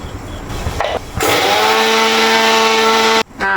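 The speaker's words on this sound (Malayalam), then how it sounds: "ഉലുവ ഒന്ന് പൊടിച്ചോണ്ട് വരട്ടെ." A mixer grinder whirs loud and close as it powders roasted fenugreek seeds, with a steady high whine that rises after short start-stop bursts and then cuts off abruptly.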